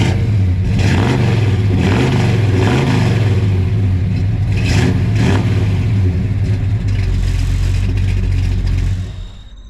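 A 1967 Chevelle with a big block V8 and 4-speed manual revs loudly up close, its deep rumble rising and falling in several blips before settling and cutting off at the end.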